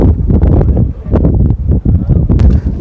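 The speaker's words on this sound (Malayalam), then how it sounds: "വെയിലുണ്ട് അതേസമയത്ത് നല്ല കാറ്റുണ്ട്" Strong wind at Saur Cave buffets the microphone in loud, continuous low rumbling gusts that rise and dip, with no voices.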